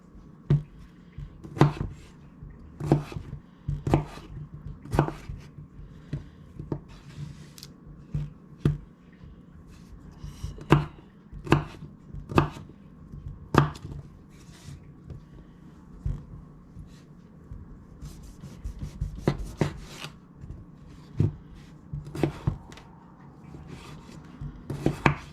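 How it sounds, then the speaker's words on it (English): A knife chops potatoes on a cutting board while vegetables are prepared for a slow cooker pot roast, giving steady close-up knocks in quick irregular bursts with short pauses, and nobody speaking. "it's time to cut up our vegetables to put in our pot roast"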